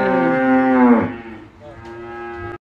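A single cow lets out a loud, close, drawn-out moo lasting about a second as cattle arrive at a farm in the rain, followed by quieter background noise and a short knock at the end.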